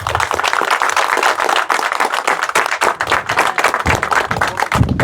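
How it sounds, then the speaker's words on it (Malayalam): Applause from a crowd at a Royal Enfield riders' gathering after a slow-race event, steady clapping from many hands sustained throughout, fairly close and loud. "അസേ നല്ല കൈയടി ശരത്തിന് കൊടുക്കണം."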